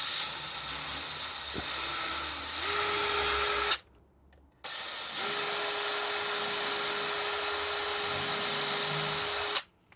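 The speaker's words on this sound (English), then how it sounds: "just a tiny little 1mm drill bit" A tiny 1mm drill bit whines at a high, steady pitch, stopping briefly and then starting again, as holes are drilled for a head tube badge on a Honda CB550 motorcycle.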